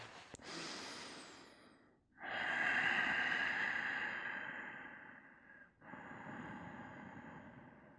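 Slow, deep breaths drawn and released during a yoga class: a long, airy exhale with a short pause, then another steady breath, close and audible in a quiet room.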